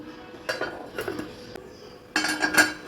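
Metal pot lid clinks into place over a pot of semiya upma in a home kitchen, a few light clattering knocks of cookware and utensils, close and moderately loud, with no voices.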